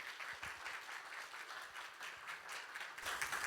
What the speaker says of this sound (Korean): 박수로 크게 환영해 주시면 감사하겠습니다